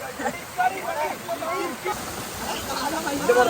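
Water rushing out of an opened dam makes a steady broad roar in the background, partly masked by people talking nearby over it.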